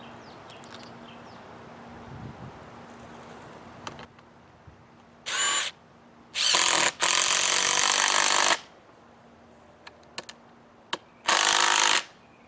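A power drill drives a 4-inch lag screw through a washer into wood in four short, loud bursts with quiet gaps between, over faint outdoor background and a few light knocks.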